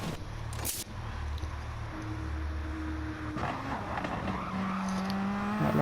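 Race car engines drone and whine at Blue Moon Bay Speedway in a racing video game as a car comes into the pits, a steady layered hum with shifting pitch and no talk.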